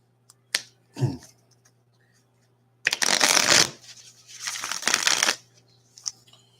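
Tarot cards handled and shuffled up close, with a couple of short taps and snaps followed by two longer, loud riffling bursts.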